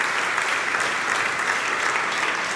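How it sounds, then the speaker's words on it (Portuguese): A church congregation applauds during a communion service, with thick, continuous clapping filling the room at a steady, loud level throughout. "Você pode aplaudir o Senhor?"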